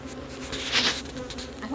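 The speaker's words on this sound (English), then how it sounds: "The bees are so loud, y'all." Honey bees buzz loudly around an open hive during an inspection, a dense, continuous drone up close that swells briefly in the middle, with no speech.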